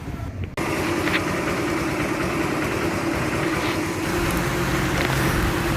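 A Motorstar Easyride 150 motorcycle engine starts after rewiring and settles into a loud, steady idle, close by and alone after a brief quieter moment at the start.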